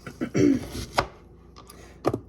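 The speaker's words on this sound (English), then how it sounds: "I have this onion here that I'm going to cut up" Several sharp knife strikes on a cutting board as an onion is cut up, with a close louder cluster early, then sparser taps and a final double chop.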